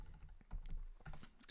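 Typing on a computer keyboard, a quick burst of close clicking keystrokes with irregular rhythm, moderately soft.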